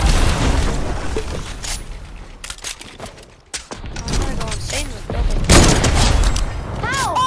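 Rapid assault rifle fire in an online shooter video game, dense loud bursts and booms filling most of the stretch with a brief lull midway, with excited players talking over it.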